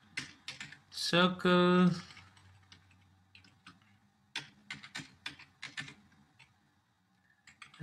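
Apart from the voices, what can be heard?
typing code on a computer keyboard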